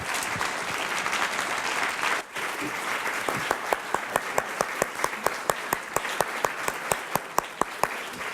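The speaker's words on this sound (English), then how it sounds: "Can we have a round of applause for our great panelists?" An audience at a philanthropy panel event applauds the panelists, steady loud clapping throughout that thins toward the end into distinct individual claps.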